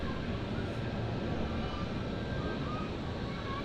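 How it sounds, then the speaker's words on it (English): A Swiss Airbus A220 taking off from runway 28 at Zurich Airport, a loud, broad, steady jet engine roar that fills the whole moment without letting up. "And there goes that Swiss A220."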